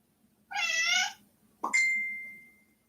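Two synthetic cat meows in a row played from an Amazon Alexa smart speaker, the first a drawn-out mew and the second a short call trailing into a thin electronic tone, over a faint hum.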